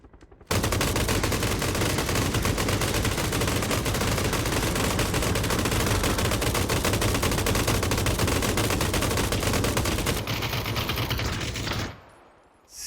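Sustained automatic gunfire from an M249 light machine gun in PUBG, a long unbroken burst of rapid shots at steady loud level for about ten seconds, then cutting off abruptly.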